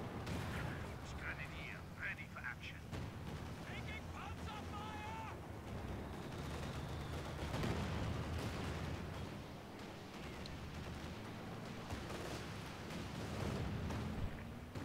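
An artillery barrage in Company of Heroes 2 rumbles with dense, overlapping booms and crackling blasts, continuous and fairly distant, while a voice talks over the top.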